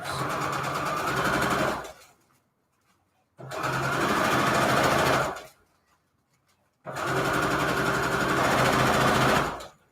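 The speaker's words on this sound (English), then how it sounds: "Of course, you can sew at your own pace." Sewing machine stitching fabric journal covers in three long, loud runs of rapid mechanical whirring, each about two seconds, separated by short silent pauses.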